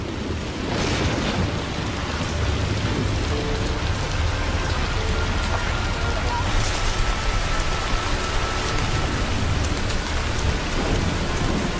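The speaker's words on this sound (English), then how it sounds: "We're just gonna stay here till the rain stops." Steady, heavy rain pours down throughout a Western setting, a dense continuous hiss with faint rumbles suggesting distant thunder beneath it.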